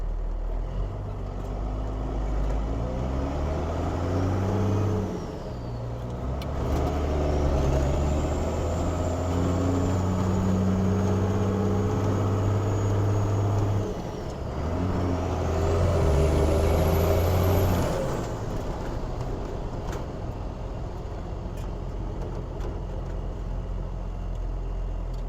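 A Cummins-powered Chevy truck on a 1990 Dodge chassis drives along, heard from inside the cab: a steady low engine drone with gear-change dips around five and thirteen seconds and a rising whine, no talk.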